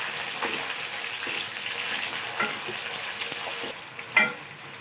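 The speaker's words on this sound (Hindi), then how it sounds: "मीडियम फ्लेम पर रख के हम आलू को फ्राई करेंगे।" Half a kilo of potatoes fries with onions over a medium flame, a steady close sizzle with soft stirring scrapes and one sharper clatter near the end, no talking.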